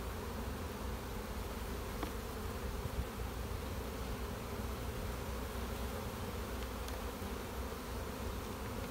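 Honey bees buzzing steadily on a brood frame crowded with young nurse bees and open brood, a dense continuous hum held close throughout with no talk.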